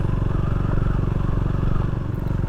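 A motorcycle engine runs steadily and close by, its low pulsing rumble holding at an even level throughout, out in cleared former rainforest country where cattle graze nearby.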